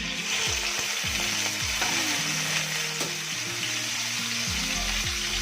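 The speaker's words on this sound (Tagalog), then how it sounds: "Iprito po natin ang pork." Pork frying in a hot pan for pork steak, a steady close sizzle with sharp pops, over a background of intermittent tonal squeaks and running water, no talking.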